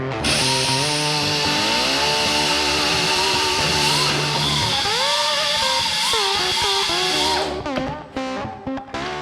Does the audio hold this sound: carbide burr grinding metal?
yes